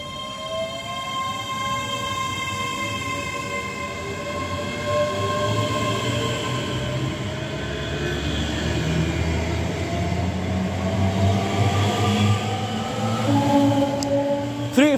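A passenger train runs from Edinburgh to Dunblane, filling the space with a steady close rumble of wheels on rails and long drawn-out squealing tones that rise and bend throughout.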